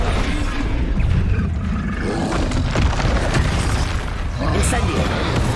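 A Confringo fire spell explodes in the wizarding game Hogwarts Legacy, with loud, rumbling blasts and roaring bursts layered over constant battle noise. A voice shouts spell names over the din.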